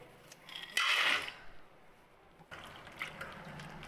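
Hands swish and rinse groundnuts in a bowl of water, giving a brief splashy surge followed by softer intermittent sloshing and dribbling, close and fairly quiet.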